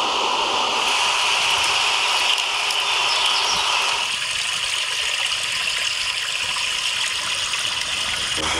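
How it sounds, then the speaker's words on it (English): Continuous rushing noise from an iPhone's rain background sound, dense and steady, softening slightly partway through, with no talking. "rain is probably my favorite one out of the selection here"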